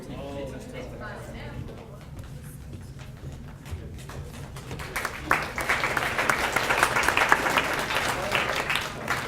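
Audience at a secondary school awards ceremony in Valemount breaks into applause partway through, dense clapping swelling from a quieter room with faint voices into a sustained, moderately loud burst.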